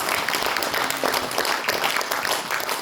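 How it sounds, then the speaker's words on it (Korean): Applause from a lecture audience fills the moment, dense and continuous for a few seconds with no pause, moderately loud and heard without speech over it. "이때 박수."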